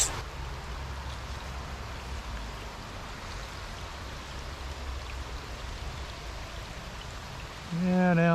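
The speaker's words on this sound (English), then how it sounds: "now it's starting to rain a little harder" Rain falling over a flowing trout stream on the East Brandywine, a steady broadband hiss of drops and running water throughout, swelling louder near the end as the shower picks up.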